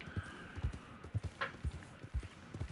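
A horse in the Red Dead Online video game gallops at a steady pace, rhythmic hoof clip-clops with a brief snort of breath, heard close and alone at moderate volume.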